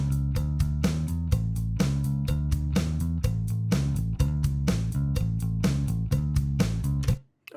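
A studio mix of drums and bass plays steadily and loud, with regular drum hits over a sustained, repeating bass line, cutting off abruptly near the end.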